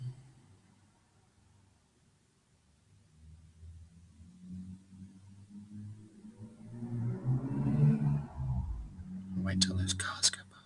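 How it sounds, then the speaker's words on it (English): Several cars driving past on a nearby road, a low rumble building over a few seconds and peaking loudly before fading, with a quiet murmur beneath. "wait till those cars go past."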